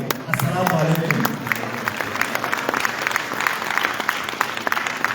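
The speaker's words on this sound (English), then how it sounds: "allow a big round of applause again to the Honorable Vice President" Applause for the Vice President of Sierra Leone at an official address, a loud, sustained round of dense clapping from a large crowd, swelling at the start and continuing evenly throughout.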